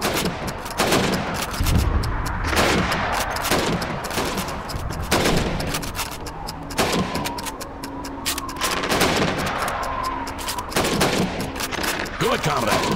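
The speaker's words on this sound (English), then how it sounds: "You have 15 seconds to shoot the helmets." Rifle shots ring out in Call of Duty 2 as a player fires at helmets in a timed training drill; several sharp, loud reports come at irregular intervals with game ambience between them.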